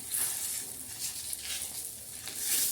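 A millet-flour flatbread with coriander sizzles on an oiled hot griddle, a steady close hiss that swells and eases in soft waves, with no talk.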